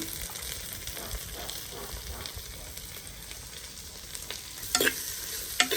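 Onions and green chilies frying in sesame oil in a clay pot for a Jaffna-style country chicken curry, a steady close sizzle with soft stirring scrapes and a few sharper clinks toward the end.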